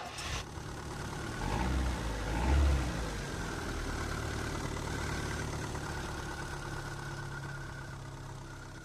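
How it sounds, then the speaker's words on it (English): Synthesized engine start made from a Renault Twingo sample layered with a Reason synth patch and faded in: a low crank and rumble swelling up, then a steady idling drone sustained to the end. "To make it sound natural, I added a fade in to the original Twingo engine sound."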